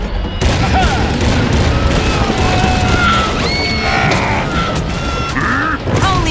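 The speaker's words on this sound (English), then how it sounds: "To 17 goblins in a cannon, and boom!" In a Clash mobile game, a cannon fires a load of goblins with a loud boom amid a dense barrage of crashes and bangs, with squeaky game-voice chirps over a continuous roar.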